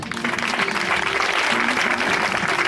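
A church congregation applauding in praise during a Sunday service, a dense, sustained wash of many hands clapping at steady loudness throughout.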